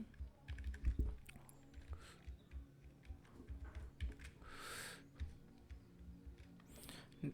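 Soft, quiet clicking of fingers typing on a computer keyboard, close and uneven, with scattered keystrokes and short pauses and a couple of brief louder taps.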